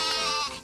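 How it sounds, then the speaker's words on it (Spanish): A sheep bleats once, loud and close, a short wavering cry standing alone with no talk over it. "Oveja."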